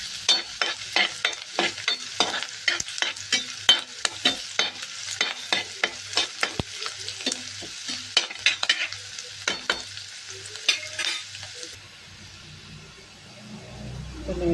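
Onions fry in a pan for egg gravy with a loud close sizzle broken by regular rhythmic scraping strokes of a spoon, the stirring stopping near the end as the hiss softens.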